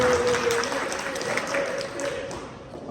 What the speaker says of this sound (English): please get a round of applause to our board president for being such a good leader.